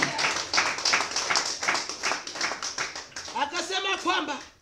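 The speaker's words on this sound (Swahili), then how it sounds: "Pigia Bwana Yesu makofi" A church congregation claps for Jesus in a steady run of rhythmic claps, with voices mixed in and a singing or speaking voice rising toward the end.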